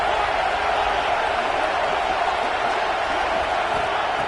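A packed stadium crowd at a football game roars in a dense, unbroken wall of noise, loud and sustained throughout with no single voice standing out.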